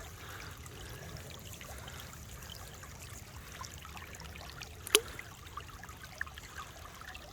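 Creek water runs over rocks in a West Virginia stream during gold prospecting, a steady soft broadband trickle and rush with one brief sharp knock midway.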